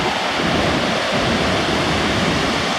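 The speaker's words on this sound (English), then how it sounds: "There's some waterfall here," A dense, steady roar of falling water fills the air, broad and unbroken like a nearby cascade, from a waterfall behind a dam in Ottawa.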